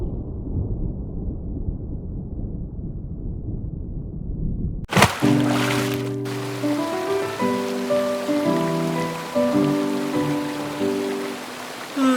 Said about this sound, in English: I've never seen so much goddamn rain.